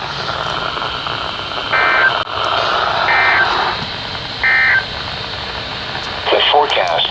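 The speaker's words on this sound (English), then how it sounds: "this is a test of the NOAA Weather Radio's warning device." Three short steady warning alarm tones from a NOAA Weather Radio test sound over a broadcast background, each lasting about half a second and evenly spaced, fairly loud and close.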